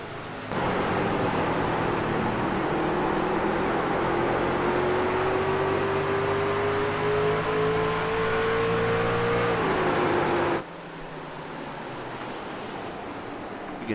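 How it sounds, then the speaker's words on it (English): Racing trucks on a tight race track, a continuous roaring drone of engines with a slowly rising pitch as the trucks ease off and nearly stop mid-corner, then a sudden drop in level as the pass ends. "You can hear how these guys are almost stopping mid-corner because of the way the track's getting tight."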